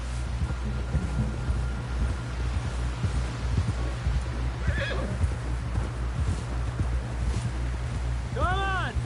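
Horse in Red Dead Redemption 2 whinnies under rhythmic clip-clop of hooves, with a low hum and a voice speaking near the end.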